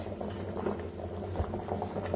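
Tapioca pieces simmering in a pot of water, a soft bubbling and gurgling boil with small pops and faint utensil clinks, low and close, with no speech.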